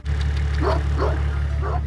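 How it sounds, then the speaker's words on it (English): A Spanish mountain dog guarding goats barks three times in a row, fairly close, over a loud constant low engine hum. "That right there is a Spanish mountain dog."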